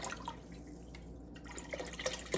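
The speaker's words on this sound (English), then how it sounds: "fill up half of your pot with water. I'm using an 8-quart pot" Water pours from a tap into a large 8-quart cooking pot, a continuous splashing rush with small drips and gurgles, close by and with no talking.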